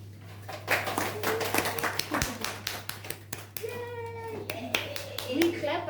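A Toastmasters evening audience claps to welcome a speaker to the stage, a few scattered hand claps and taps, mixed with cheering and talking voices, in a room with a steady low hum.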